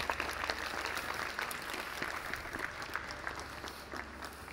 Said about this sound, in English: All right, round of applause for Valentin.